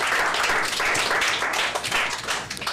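Audience applause at a staged reading competition: dense, steady clapping from a crowd fills the whole stretch at a strong level, with no voices on top.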